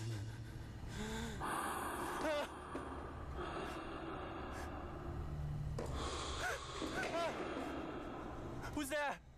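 Heavy, exaggerated breathing imitated by a voice in an ASMR style, with repeated gasping inhales and snorting exhales close to the mic over a dense, noisy background.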